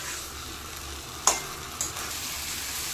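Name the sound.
vegetables with spices being stirred and fried in pan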